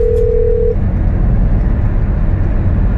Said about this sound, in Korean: 동생한테 전화 걸면 될 것 같아.